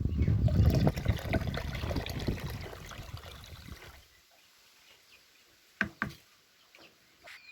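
Water pours steadily into a tomato fertilizer mix made with risen yeast, about nine litres in all, a dense close rush lasting about four seconds before it stops, then a few sharp knocks in the quiet.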